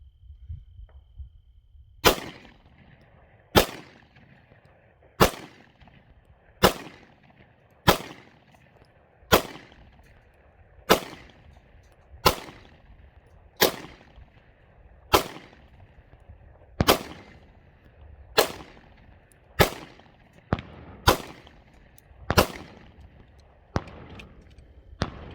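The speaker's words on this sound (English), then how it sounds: "Okay, 15 rounds, no malfunctions. I am shooting 124 grain Blazer brass." A Smith & Wesson Equalizer pistol fires fifteen rounds of 124 grain Blazer brass ammunition, sharp loud reports spaced about a second and a half apart in a steady, unhurried rhythm, each shot ringing briefly before the next.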